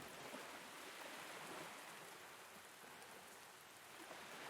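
Steady rain in the farming video game Pumpkin Days, a soft, even patter of drops on surfaces that continues without break at low volume.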